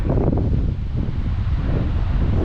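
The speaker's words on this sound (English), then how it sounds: "Wind's dying down a bit now as well" Strong wind on an exposed coast path roars as a continuous, loud, low rumble buffeting the microphone, with no voices.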